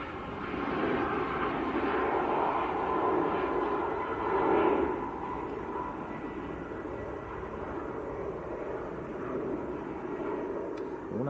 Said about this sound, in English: That one is a Max 8.